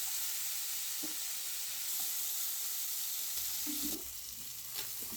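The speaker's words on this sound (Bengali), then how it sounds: "চিংড়ি মাছগুলো ভালো করে ভেজে নেব" Small prawns fry in mustard oil in a kadai, giving a dense, continuous sizzle up close with occasional stirring clatter and a scrape of the pan toward the end, no voices.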